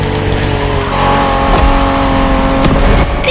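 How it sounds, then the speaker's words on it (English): A Honda NSX sports car, a 1990s rival to Ferrari and Porsche, drives in the racing video game The Crew Motorfest, its engine droning loud and steady with rising revs and a brief tire squeal near the end. "Are you familiar with the Honda you're driving? The NSX isn't your regular street car."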